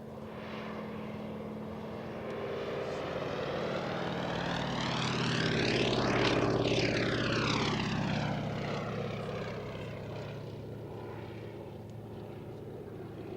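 A Fairey Swordfish I biplane from the Navy Wings heritage flight, wearing D-Day invasion stripes, makes a pass at Cosford Airshow; its radial-engine propeller drone swells as it approaches, peaks overhead with a clear pitch drop, then fades away.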